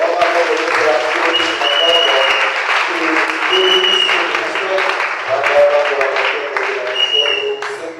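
A church congregation applauds and cheers steadily after a prayer, dense clapping with voices whooping over it, filling the room at close range for the whole stretch.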